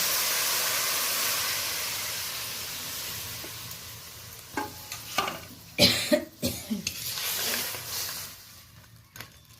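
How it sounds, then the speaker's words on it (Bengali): Tamarind water poured into crab frying in a pan, a loud hissing sizzle that fades, then sharp bursts of spattering and stirring clatter, with no speech. "তেঁতুল গোলা জলটা দিয়ে দিচ্ছি।"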